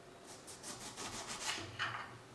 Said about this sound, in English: I'm going to take a knife to the end and cut a good amount in so you can get into the fruit